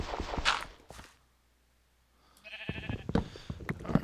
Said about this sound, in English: I know there's sheep right beside me.